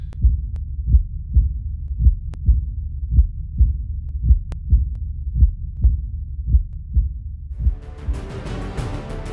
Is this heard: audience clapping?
no